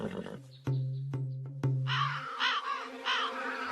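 Several noisy crows in a cartoon caw repeatedly in sharp, loud, closely spaced bursts that are heard alone without talk.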